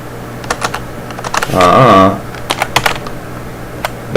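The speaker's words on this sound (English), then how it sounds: "Bear with my typing skills, please." Fast, uneven keystrokes on a computer keyboard, typed in short bursts of clicks close up, with a brief stretch of a voice partway through.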